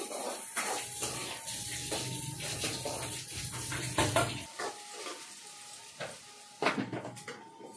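Green chilies and onions frying in oil in a pan, with steady soft sizzling and intermittent scraping stirs and clinks of a utensil against the pan, close by and moderately loud.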